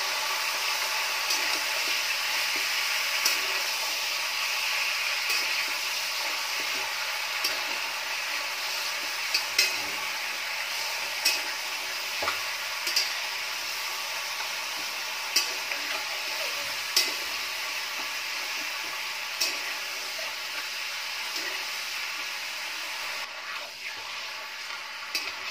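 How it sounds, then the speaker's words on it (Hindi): Chicken for a Bihari-style dish frying in a pan, a steady loud sizzle over the full length with light scattered clicks of stirring, no voices. "हम हल्का फ्राई करेंगे।"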